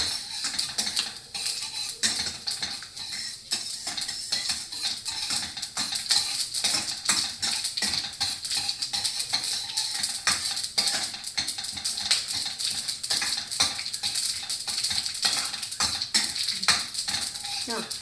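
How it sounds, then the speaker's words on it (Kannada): A spoon mixes peanuts and chana dal frying in a pan for bottle gourd poha, making continuous close sizzling with a busy patter of metallic scrapes and clinks throughout. "ಇವಾಗ ಕಡಲೆಕಾಯಿ ಬೀಜ, ಕಡಲೆಬೇಳೆ ಎರಡನ್ನು ಹಾಕಿಬಿಟ್ಟು ಸ್ಪೂನಲ್ಲಿ ಮಿಕ್ಸ್ ಮಾಡಬೇಕು"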